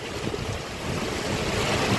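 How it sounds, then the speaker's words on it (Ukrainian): Strong wind buffets outdoors during heavy rain, a continuous broadband roar with gusty noise hitting the microphone, loud and steady throughout with no voices. "Задуває просто капець. Ох і доща."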